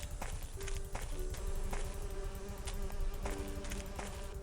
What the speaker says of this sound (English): I don't like the sound of those bees in there.